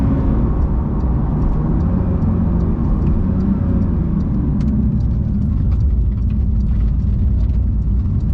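Porsche 911 GT3 of the 992 generation pulling away hard from a 5,000 RPM launch, a loud, steady engine roar with heavy low rumble that holds throughout without a break and no talking over it.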